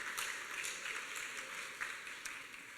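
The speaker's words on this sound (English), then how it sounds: "So that's worth clapping." Dinner-event audience applauds in a steady, quiet wash of clapping heard from a distance, with no voices over it.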